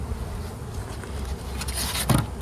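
Honeybees drone in a steady, close buzz from an opened hive, a dense continuous hum with a few louder swells near the end.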